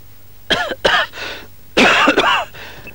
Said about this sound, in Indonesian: Masih batuk saja, Pak.